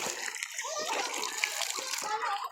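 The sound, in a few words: water being poured for animals to drink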